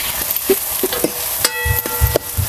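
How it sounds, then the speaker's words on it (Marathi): Onion and tomato are stirred in a hot pan for Kolhapuri misal, with a spoon clinking and scraping in short, close strokes over a soft background sizzle. "आपण ह्यामध्ये टमॅटो घालूया आणि टमॅटो सुद्धा आपल्याला चांगलंच आहे ना परतून घ्यायचा मऊ पर्यंत"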